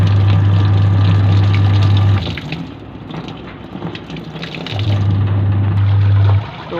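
A repaired pulsator washing machine runs with a steady low motor hum while water pours into the tub, the hum fading in the middle and returning strongly near the end, with no voices.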